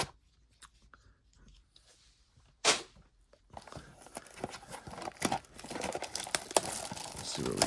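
Panini Prospect Edition baseball blaster box and packs being torn open, with sharp rips followed by a long stretch of close crinkling and rustling of foil wrappers and card handling.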